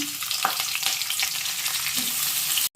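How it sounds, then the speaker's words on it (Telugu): Continuous hot-oil sizzling and crackling as tempering spices fry in a kadai, close and steady, with faint stirring scrapes and no voices. "ఇందులోకి ఇప్పుడు పోపులు వేసుకుందాం"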